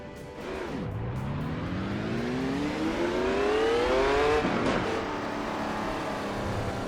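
A Ferrari race car accelerates hard through its gears, its engine note rising steeply, dropping at a shift and then climbing again. It sounds loud and close, with no talk over it.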